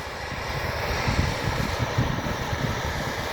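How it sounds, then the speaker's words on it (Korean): Strong wind roars over a farm field during rotary tilling and ridge-making, a steady low rumble buffeting close to the microphone for the whole stretch, with no one talking. "와 바람 엄청 붑니다 여기."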